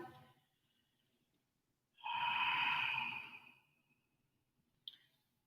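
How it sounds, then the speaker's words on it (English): Someone takes one slow, deep breath in and then gives one long exhale of about a second. The breath is close and clear against quiet surroundings, with a faint click near the end. "Deep breath in. Big exhale."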